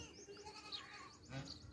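A Beetal goat with her kid, giving a faint, short bleat over quiet farm background, with a slightly louder wavering call near the end.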